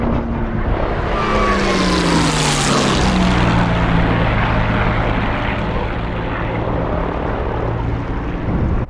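A P-51 propeller fighter in a combat video game roars past close and loud, its engine pitch sliding downward as it passes, then drones on steadily.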